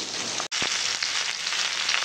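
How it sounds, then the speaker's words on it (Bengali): Fish, likely katla, fries in a pan with a steady close sizzle, broken by a brief cut and a soft clatter near the start. "আর এদিকে মাছ তো ভাজছি,"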